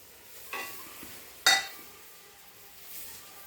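Garlic and chopped vegetables such as carrot and capsicum stir-fried for fried rice in a pan, with soft sizzling and a couple of sharp spatula clinks against the metal, close and without talk.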